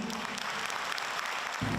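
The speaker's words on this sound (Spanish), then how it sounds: "Un aplauso para Cristo." Audience applause at a religious gathering, a dense, even burst of many hands clapping, fairly loud and close, with a brief low voice entering at the end.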